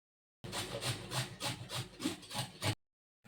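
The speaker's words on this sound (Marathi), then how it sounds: "आंबे छान सोलून घेतले, आता किसून घेते." Peeled mangoes are grated by hand, a series of about nine rhythmic rasping strokes, close and fairly quiet, with short gaps between them and no talking.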